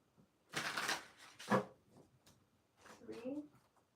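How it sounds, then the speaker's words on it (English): Reading cards shuffled by hand during a live card reading, two short papery riffling bursts between quiet gaps, with a person speaking softly over them. "so I will shuffle again"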